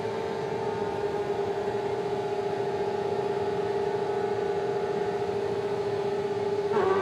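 Crosscar rallycross engines at Arvika hold a sustained high-RPM scream on the start line, a loud steady droning tone that barely wavers, with a slight surge at the end.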